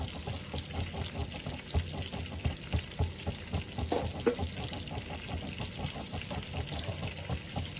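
Ground turmeric meets hot oil in a pan while cooking Shahi malai kofta, giving a soft, steady crackling sizzle with light scraping and stirring, faint and continuous.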